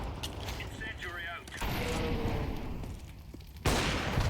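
Gunfire in a first-person shooter game, sharp shots under mechanical clatter, with a loud burst near the end; people talk throughout.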